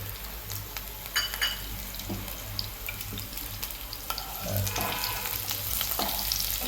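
Crushed garlic frying in oil in a kadhai, a close, steady sizzle with light spattering and a few soft clinks, continuous throughout without speech.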